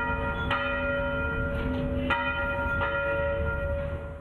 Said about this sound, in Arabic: عادت أجراس الكنائس لتقرع مرة أخرى